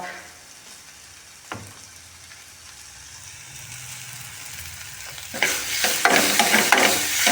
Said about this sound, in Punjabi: ਮਾੜਾ ਜਿਹਾ ਹੋਰ ਭੁੰਨ ਲੈਨੇ ਆ